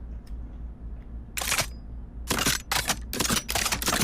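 The charging handle of a PKM machine gun in the Pavlov video game is racked, giving a sharp metallic clack followed by a quick cluster of crisp clicks and clacks, close and loud over a faint hum.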